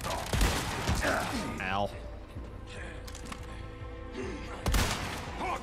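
Gunfire in the video game Resident Evil 4 Remake, with sharp shots at the start and near the end around steady game ambience, and a voice briefly speaking between them.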